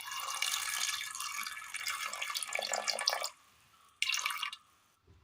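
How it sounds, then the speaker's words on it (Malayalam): Water is poured into a pressure cooker holding chopped potatoes, beans and onion, a steady splashing stream lasting about three seconds, then a short second pour after a brief pause. "അല്പം വെള്ളം"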